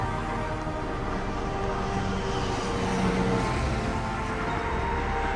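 A Warsaw tram on route 36 rumbles past steadily, a continuous loud rolling noise with a faint hum, with no voices present.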